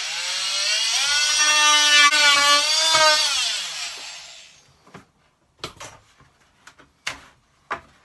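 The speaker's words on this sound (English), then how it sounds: "So obviously just going with the multi-tool, just got to take out kind of" Oscillating multi-tool cutting out a wooden batten inside a narrowboat galley cupboard: a loud, close, high buzzing whine for about four seconds that winds down, then several sharp knocks and taps.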